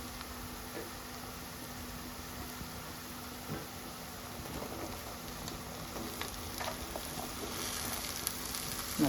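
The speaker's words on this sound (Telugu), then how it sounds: "ఆ విధంగా మగ్గగానే ఇప్పుడు దొండకాయ ముక్కలు వేసేసుకుందాం" Ivy gourd pieces fry in a pan with onions, making a faint, steady sizzle close by that carries occasional light clicks and stirring sounds, with no voices.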